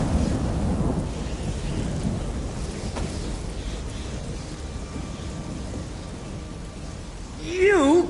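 Thunder from a lightning storm in Elder Scrolls Online rolls low and continuous under rain, a loud rumble fading gradually, with a brief voice-like sound at the end.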